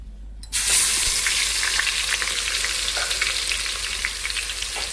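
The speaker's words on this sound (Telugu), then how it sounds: "చక్కగా ఆయిల్ పెట్టేసానండి, కాగిందండి." Garlic paste drops into hot oil and bursts into a loud, dense sizzle that stays steady and close for several seconds, after a brief quieter moment at the start and with no talking.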